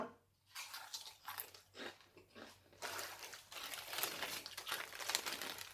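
Crispy Orion Marine Boy fish-shaped biscuits being crunched and chewed up close, a run of irregular crisp bites and crackling chews, fairly quiet with no talk.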